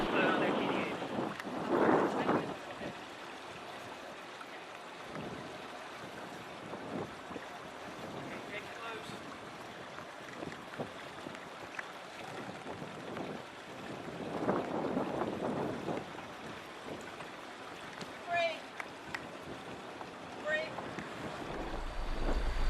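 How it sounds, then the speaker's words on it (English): Twin-engine boat with no bow thruster backing straight out from a dock with both engines in reverse, a low steady engine rumble mixed with water wash and gusty wind noise, with voices talking at times. "Both engines are in reverse, going straight out backwards."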